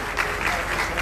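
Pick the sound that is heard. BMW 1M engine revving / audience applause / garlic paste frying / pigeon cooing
audience applause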